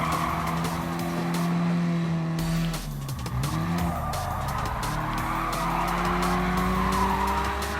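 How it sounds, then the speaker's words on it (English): Alpine A110 power sliding in Gran Turismo Sport, its engine droning loud and steady while tires squeal through the slide during a custom race. "Oh, a little more power slide."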